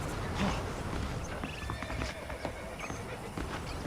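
Saddled horses in Red Dead Redemption clop their hooves steadily near a ranch, with whinnying and other game ambience, a voice talking faintly in the background.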